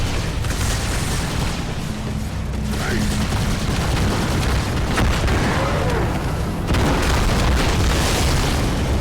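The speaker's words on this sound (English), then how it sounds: "they have to remaster the fucking explosion noises, it just pierces your ears" Explosions in the video game Halo 2 boom loudly, several heavy blasts and bursts over a dense wash of battle noise, with a voice briefly talking over them.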